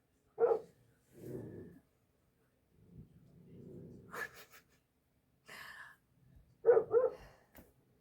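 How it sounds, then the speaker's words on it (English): A dog at a door gives a few sharp barks and short huffs separated by quiet gaps, with low rumbling growl-like stretches between them, fairly close and moderately loud. "this one's going to growl on this side of the door. He's going to bark on that side of the door."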